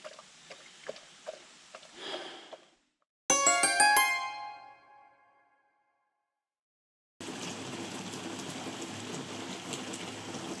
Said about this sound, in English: It's been raining like this for about the last hour.